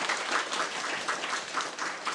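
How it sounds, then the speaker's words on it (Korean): Audience applause welcoming a panelist at the 2019 Jeju Forum session on JDC duty-free shops, a steady moderate wash of clapping from a seated crowd, lasting about two seconds without speech. "큰 박수로 모셔주시죠"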